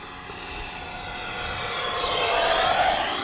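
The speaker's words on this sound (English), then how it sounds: "We're going to do another full throttle pass down the runway." An FMS Integral 80mm EDF radio-controlled jet makes a full-throttle pass down a runway, its ducted-fan whine and rushing roar swelling louder as it approaches, heard from outdoors without talk.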